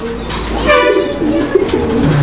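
Pigeons at a pigeon market give deep, throaty, rolling coos that sound close and loud. Faint background murmur from the market runs beneath them.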